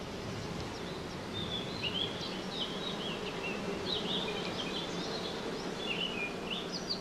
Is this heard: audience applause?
no